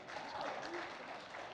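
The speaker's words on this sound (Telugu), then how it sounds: "కొట్టండి చప్పట్లు" An audience at a film pre-release event claps in a faint, continuous patter of applause, with a voice talking through it.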